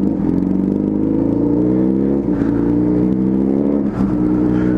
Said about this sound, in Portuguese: A moto tá redondinha.